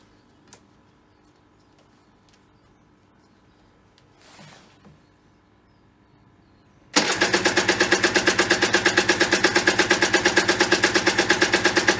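A choked petrol engine running on E5 fuel is cold started: quiet clicks and a brief rustle, then it fires abruptly and settles into a loud, rapid, rhythmic idle that stays steady.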